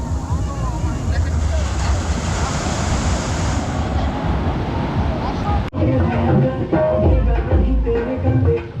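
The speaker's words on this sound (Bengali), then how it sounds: "তো এখন জোয়ার চলছে সমুদ্রে।" Sea waves at high tide on Mandarmani beach roll in as a steady, loud broadband wash with wind, continuous throughout.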